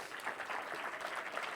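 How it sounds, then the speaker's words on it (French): Audience applause greets the director of TGV Intercités (SNCF) as he comes on stage at a conference, a steady broadband clatter of many hands at moderate distance, sustained without talk. "Merci de l'applaudir."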